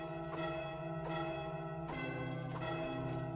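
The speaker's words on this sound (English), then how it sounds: "I don't know how I would play that on the bells" Bells rung in the Goat Simulator 3 video game, a run of bright resonant tones with long sustained ringing overtones, struck roughly every 0.7 seconds in an uneven melody, loud and close with no talking.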